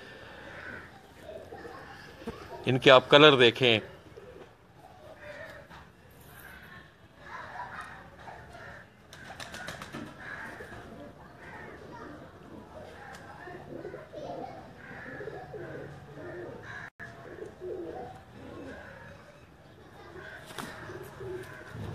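Lakha pigeons coo in low, soft murmurs near their keeper, with a burst of wing flapping early on and someone talking over the birds through most of the stretch.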